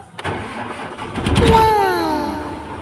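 A truck engine cranks and catches, then settles into a steady idle as it warms up, with a rising whine over the rumble and some voices faintly in the background.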